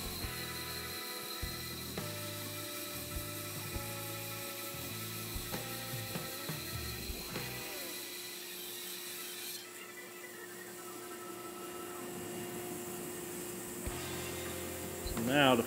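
A band saw with a 1/4 inch blade cuts a wooden table leg, giving a steady mechanical hum with irregular rasping and knocking as the wood is guided through the cut.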